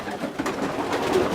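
Pigeons in a loft give soft, low cooing calls, close and continuous over a faint background murmur.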